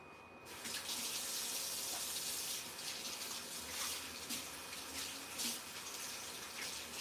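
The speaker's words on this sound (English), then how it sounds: "I'm going to wash my hands again because I touched it." Kitchen tap running into a sink as hands are washed during cooking, a steady close gush of water that starts abruptly and continues without talk.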